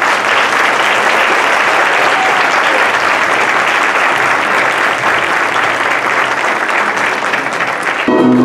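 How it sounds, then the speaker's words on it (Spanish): A large audience at a 50th anniversary ceremony gives loud, dense, continuous applause that holds steady for about eight seconds and then cuts off abruptly. "Un fuerte aplauso, por favor."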